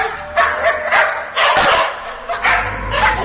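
Two dogs bark loudly and close by in a Hindi haunted-house horror audio story, giving a series of sharp, uneven barks mixed with higher yips and whimpers as a door is flung open.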